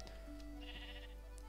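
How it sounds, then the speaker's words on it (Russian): A sheep in the Minecraft video game gives a short bleat, faint and alone over a low steady hum, with no talk. "Давайте овечек побреем."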